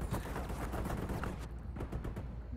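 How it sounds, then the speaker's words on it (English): Rapid bursts of gunfire crackle through a firefight in the video game Division 2, dense overlapping shots at moderate volume with brief gaps, no talking over them. "I'm getting shot at pretty bad."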